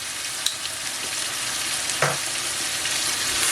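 Smoked paprika, pepper, salt and spices fry in a pan with an even hiss, broken by a couple of faint clinks and one quick scrape of stirring.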